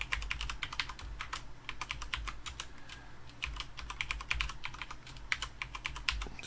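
Rapid bursts of keystrokes on a computer keyboard as a passphrase is entered, close and crisp clicks in uneven runs with brief pauses, over a low steady hum and with no talking.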